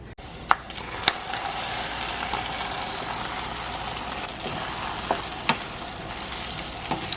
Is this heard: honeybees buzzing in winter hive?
no